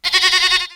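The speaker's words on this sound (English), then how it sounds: "Goat." Single short, loud goat bleat, a wavering nasal cry lasting under a second, close and alone.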